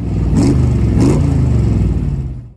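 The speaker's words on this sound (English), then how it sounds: "And that all sounds so good coming out of those side pipes with a nice rumble." A 1965 Shelby Cobra replica built in 2002 with dual 500 CFM four-barrel carburetors rumbles through its side pipes, a deep, close idle with two brief throttle blips before fading out.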